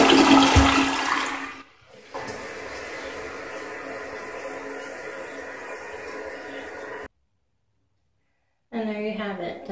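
An American Standard H2Option low-flow toilet flushes close by, starting with a loud rushing gush that settles into steady draining water. It cuts to silence, then a voice speaks briefly.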